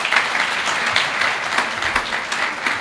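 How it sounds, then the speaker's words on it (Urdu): Audience applause at a university talk in Faisalabad, a steady wash of many hands clapping close by through the whole stretch, with no voices over it. "تو میرے خیال تالیاں ہوتی ہیں."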